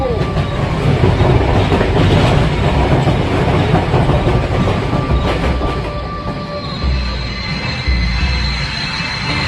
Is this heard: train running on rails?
yes